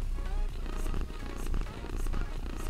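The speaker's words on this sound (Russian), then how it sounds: "Не знаю, слышите вы или нет, как она мурлыкает." A cat purring steadily while being brushed, a close, continuous low rumble running through the whole stretch with a faint voice briefly in the background.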